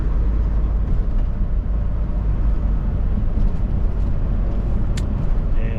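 A FedEx truck climbs a snowy mountain road with a loud, steady low engine and road rumble that runs throughout, with a brief high click near the end.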